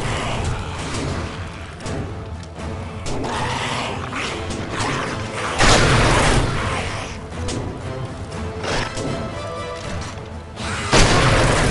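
Heavy booming gunfire from the legendary thumping thunder gun in 7 Days to Die, repeated loud blasts with mechanical clatter and crashing impacts over dense game noise.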